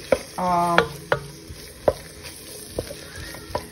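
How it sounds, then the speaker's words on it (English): Onion and pepper caramelizing in a pan, with a faint sizzle beneath sharp, sporadic clicks and scrapes of stirring, plus a brief tonal clatter near the start. "The onion and the pepper is caramelizing."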